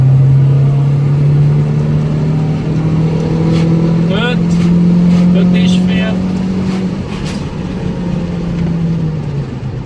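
A 1997 Fiat Coupe 1.8 16v engine climbs steadily past 3000 rpm in a loud, close, continuous rising drone, with a voice talking over it.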